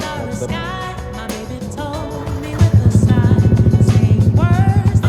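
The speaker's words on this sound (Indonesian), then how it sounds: "Pertama, nyalain motornya dulu ya." A manual-clutch motorcycle engine catches midway and settles into a loud, steady, rhythmic thumping idle, with faint tonal background music before it starts.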